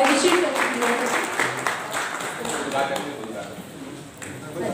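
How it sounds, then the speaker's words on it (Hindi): An audience at a public meeting on women's rights claps to welcome an arriving guest, a dense burst of applause that fades over a few seconds while an announcer keeps speaking over it. "उनके लिए आप जोरदार ताली बजाएं"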